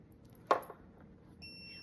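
A soft click, then a steady high-pitched electronic beep from a Dogtra 280X Pro e-collar starts and holds to the end, quiet and close.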